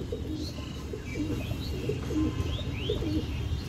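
An Arsad breed pigeon coos in soft, repeated low calls on a cloudy day. Faint chirps and a steady background murmur sit around the coos.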